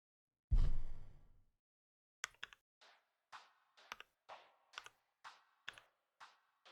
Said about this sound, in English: My keyboard sounds are kind of getting in the way.